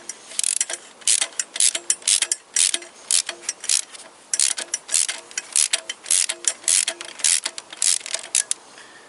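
Ratchet wrench loosening a nut on a Toyota Corolla VVT-i engine during a parts swap: close, repeated bursts of rapid clicking in an uneven rhythm, separated by short pauses.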